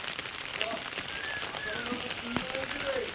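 First monsoon rain of the season falls steadily throughout, a soft constant patter on surfaces outdoors under an umbrella, with faint bird chirps over the wash.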